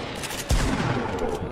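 Gunfire in the Fortnite video game: a burst of rapid shots breaks out after a brief quieter moment and keeps rattling as dense, fairly loud gunfire for the rest of the moment, with no talking.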